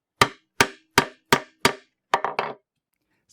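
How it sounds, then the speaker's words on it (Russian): A hammer strikes a punch through leather to make a hole in a belt loop, five evenly spaced sharp knocks followed by three quicker, softer taps, close and clear against silence. "Пробиваем отверстие."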